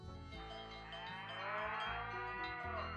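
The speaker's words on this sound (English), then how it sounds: "Hear that? That's the sound of happy cattle" Cattle low in a radio ad from the Nancy Drew game, several drawn-out moos layered over steady background music, close and clear, with no talking.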